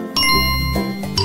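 A bright bell rings out with a clear ding, loud and close, followed by a second lighter chime as the tone fades, with no one talking.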